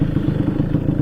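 A Vespa PX MK1 scooter running a VMC Super G kit, its two-stroke engine idling or running steadily with a loud, close, low rhythmic putter and no voices.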